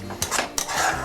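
A spoon stirs ginger, garlic and chili pastes in a pan for fish rezala, giving two short scraping strokes against the metal over a faint background sizzle, with no talking.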